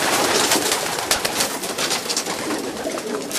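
Pigeons coo repeatedly at close range in a loft of racing pigeons, soft throaty calls overlapping with rustling and faint wing flutters.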